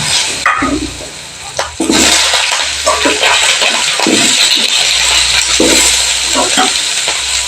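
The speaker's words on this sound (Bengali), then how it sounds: "গোটা জিরেটা তেলের মধ্যে আমি একটু ভালো করে নেড়ে নিয়ে কেটে রাখা আলুটা আমি তেলের মধ্যে অ্যাড করে দিচ্ছি।" Cut potatoes go into hot oil with whole cumin and are stirred, giving a loud, continuous hissing sizzle broken by scraping stirs, with someone talking over the cooking.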